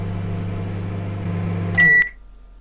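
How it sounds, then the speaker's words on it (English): A microwave oven heats a bento in a convenience-store video game, giving a steady electric hum that ends with a sharp, clear beep before falling quiet. "Maybe I've got to microwave it first."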